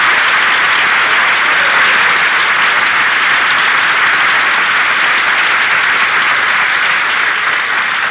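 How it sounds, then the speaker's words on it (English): Sustained studio audience applause on a comedy radio broadcast, a dense, steady roar of many hands clapping at full volume throughout, with no voices over it. "Did you hear that applause, Jack?"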